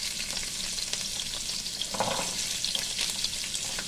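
Onion, garlic and ginger sizzle steadily in a hot pan for a restaurant-style mutton masala, with a broad, even crackle and a few soft stirring scrapes, close and continuous.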